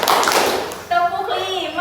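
A classroom of students claps a short counted pattern, a brief burst of hand claps right at the start before children's voices chant and speak over the rest.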